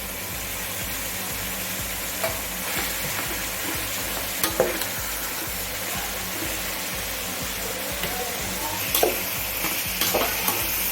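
Chopped capsicum fries in a pan for vegetable fried rice, a steady sizzle with a regular low pulsing underneath and occasional clinks and scrapes of stirring, no talk.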